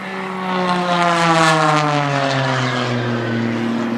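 A propeller aerobatic airplane climbs hard at an airshow, its engine drone loud and steady with harmonics sliding gradually lower as it pulls up, continuous and close with no talk.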